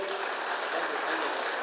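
Audience applause at a talk in Palanpur, a dense, steady clatter of many hands clapping at once, filling the short stretch without pause.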